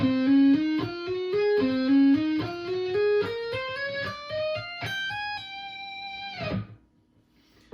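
Electric guitar plays a solo, a fast run of distorted notes climbing in pitch, with a quick trill and tapped passages before ringing out and stopping abruptly near the end.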